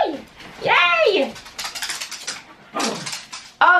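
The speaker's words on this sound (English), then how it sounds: "Oh, the dogs are so excited as well." Excited dogs whimper and yelp in high, wavering cries close by, followed by a few sharper bursts of barking and scuffling, with a voice speaking between them.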